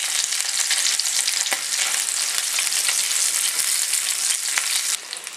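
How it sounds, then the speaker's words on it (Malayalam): Chicken pieces for Arabic chicken majboos fry in a pan with a steady, dense sizzle, close and loud, and a few faint stirring taps; the sizzle drops in level near the end. "ചെറുതായിട്ടൊന്ന് ഫ്രൈ ആയാൽ മതി"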